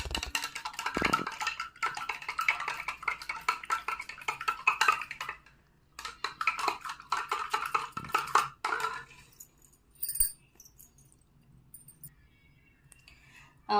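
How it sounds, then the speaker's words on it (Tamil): Two soaps, Vestige Zeta coffee and Assure creamy cleansing soap, are stirred and mixed in water, producing rapid rhythmic clicking and clinking of utensil against vessel in bursts with short pauses, close and clear. "பார்த்தீங்க அப்படின்னா 2 சோப்புமே வந்து நல்லா கலக்கிட்டோம்"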